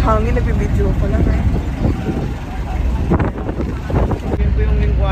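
Wind buffets a boat off El Nido, Palawan, a loud steady rumbling gusty roar across the microphone, with engine and water noise underneath and people talking over it.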